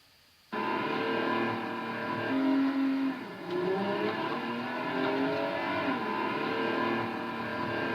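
A 1,000-horsepower Ferrari LaFerrari engine starts to idle loudly, then rises and falls in pitch through gentle revs, staying close and steady throughout.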